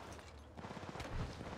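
Faint bursts of rapid gunfire in Apex Legends crackle in the distance, several shots in quick succession over a low background hum.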